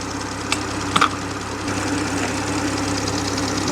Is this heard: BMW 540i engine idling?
yes